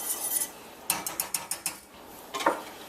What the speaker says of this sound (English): So I'm going to go in with some butter, some melted butter. Give that a quick whisk.